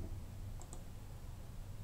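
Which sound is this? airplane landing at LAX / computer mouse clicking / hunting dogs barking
computer mouse clicking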